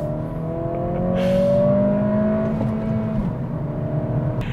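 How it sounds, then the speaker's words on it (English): Acura Integra A-Spec engine revving hard while driving, heard from the cabin: a rising, climbing engine tone peaks mid-clip, then drops off briefly as the next gear engages and the drone continues. "if you really rev it out to get the most out of this car, you'll be disappointed by the sound"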